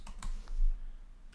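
Brief run of keystrokes on a computer keyboard, a few close, crisp clicks in quick succession with no voices.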